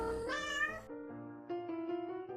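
A cat meows in the video game Cat President: a clear, tonal, drawn-out mew followed by a second wavering meow, close and alone.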